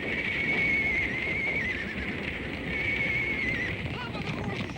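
Horses whinny in distress during a fire in a 1959 TV western, amid a loud, roaring, noisy background, with a sustained high cry carrying over the din.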